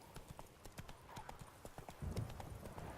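Roach, the horse in The Witcher video game, gallops in a steady rapid clip-clop of hooves that grows heavier toward the end, with a faint voice somewhere in the mix.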